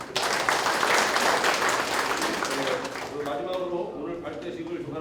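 Dense, loud applause from a ceremony audience fills the room at once, then thins and fades toward the end while faint voices carry underneath.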